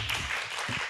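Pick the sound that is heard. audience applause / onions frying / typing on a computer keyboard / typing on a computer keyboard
audience applause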